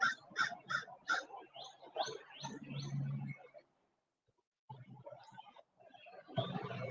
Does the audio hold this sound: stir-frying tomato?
no